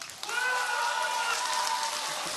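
Audience in a Korean seminar hall claps together in a dense, steady wash of applause lasting a couple of seconds, fairly loud and even, without distinct individual claps.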